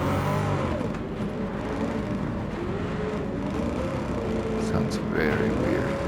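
A car engine revs steadily while driving on snow in Gran Turismo 7, a continuous droning motor whine that rises slightly near the end, with someone talking over it.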